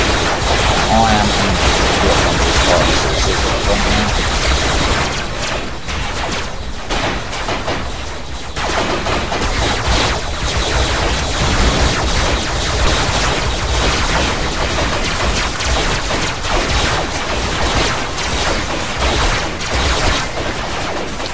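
Video game gunfire crackles in continuous, dense bursts of automatic fire, loud and unbroken rather than fired in short taps.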